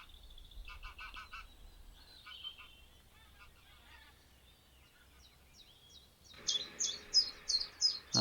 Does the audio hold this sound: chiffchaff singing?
yes